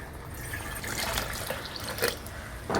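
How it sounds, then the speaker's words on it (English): Water is poured into a pot of ladies finger and brinjal sambar that already holds tamarind water, cooked dal and asafoetida, making a soft, continuous splashing trickle with a few brighter drips near the end. "We'll add little more water towards it."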